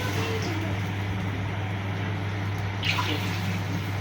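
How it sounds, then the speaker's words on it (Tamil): Coconut milk pours into a hot pan for pink coconut milk halwa, making a steady, even liquid rush for a few seconds over a constant low hum. "3 கப்பு தேங்காய் பால் பாய்க்கிறேன்"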